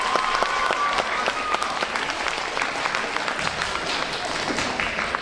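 Applause for a performer at a high school holiday instrumental concert, a crowd clapping steadily in a hall with a few sharper nearby claps standing out and faint murmuring voices underneath.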